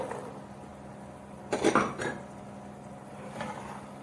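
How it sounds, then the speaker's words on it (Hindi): Peas tipped into a cooking pot, a short clattering rattle against the metal with a light clink just after, over a quiet kitchen background. "अभी मैं डालूंगी इसमें मटर"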